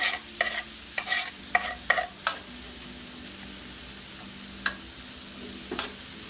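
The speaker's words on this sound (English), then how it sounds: "So we're going to throw some fennel in here." Fennel tossed into a paella pan and stirred with a utensil: a quiet sizzle underneath a run of light scraping strokes, clustered at first, then sparse.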